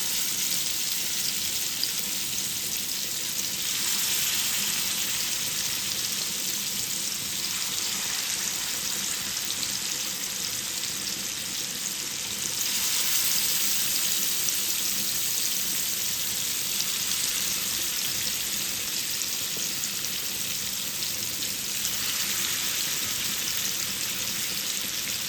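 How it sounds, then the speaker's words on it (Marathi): Rawas fish, Indian salmon, frying in oil on a slow gas flame without any flour coating, a steady close sizzling hiss that runs on unbroken and alone. "स्लो फ्लेमवरच मच्छी फ्राय करून घेणार आहे."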